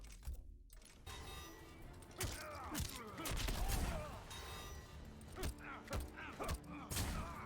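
Erron Black's Scud Shot gun fires in Mortal Kombat 11 amid a fight, with sharp repeated shots and impacts scattered through busy combat effects and grunts.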